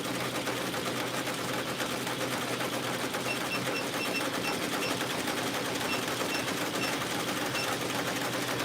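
An industrial sewing machine stitching beanies at 800 stitches a minute runs as a steady, dense mechanical whir, loud and continuous throughout with no voices.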